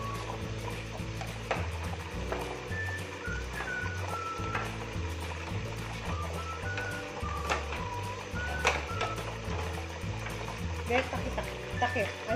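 Potatoes fry and sizzle in spattering hot oil for patatim, a steady crackling hiss running throughout with occasional pops, under background music and a voice talking.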